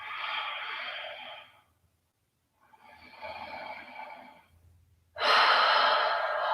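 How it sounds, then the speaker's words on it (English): Slow, audible breaths during hatha yoga practice, two long airy exhales or inhales separated by a pause, then a louder, fuller breath at the end, close and with no talking. "And breathe."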